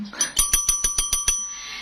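A small bell is struck in a quick run of about eight bright, evenly spaced rings, close and clear with no talking, the last ring fading into a soft hiss.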